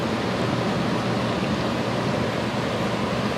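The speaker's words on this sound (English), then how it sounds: "AC is on, you can hear a lot of water." Water sounds while an air conditioner runs indoors, heard as a steady, dense rushing hiss that stays even throughout, with no voices or distinct events.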